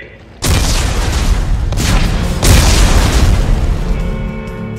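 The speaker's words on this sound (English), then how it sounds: "Computer, arm explosives. And detonate." Explosives detonate in the sci-fi horror game Dead Space 3: a sudden loud boom erupts after a brief quiet start, sustains a rumbling roar, then a second heavy blast surges before the noise slowly fades.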